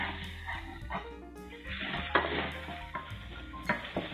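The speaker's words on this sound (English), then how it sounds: "Add the vegetables and sprinkle with the remaining seasoning and saute for 3 to 4 minutes, stirring occasionally." Vegetables sautéing with seasoning in a pan, a soft sizzle broken by irregular clinks and scrapes from a big spoon stirring, close and fairly quiet.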